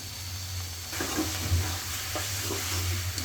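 Fried cabbage with cumin powder stirred in a pan, giving a continuous sizzle and low hiss with a few scraping strokes of the spoon.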